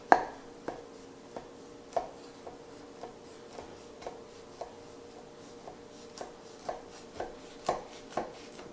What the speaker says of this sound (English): Use a sharp knife and cut it diagonally or in square right through the bottom.